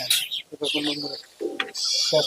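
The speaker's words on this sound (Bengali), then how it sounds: "তিনটে পায়রা উঠছে সকাল সাড়ে এগারোটার দিকে ছাড়া হয়েছে" Pigeons coo and chirp at a pigeon sale in Murshidabad, with soft bursts of cooing among close talk from people nearby.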